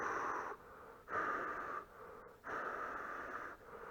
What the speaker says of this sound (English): So we can do a blow test